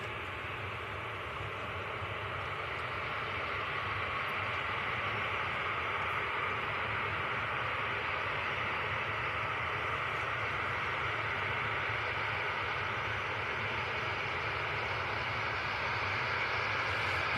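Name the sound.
TUI airplane departing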